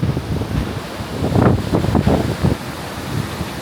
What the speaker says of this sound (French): Il fait du vent.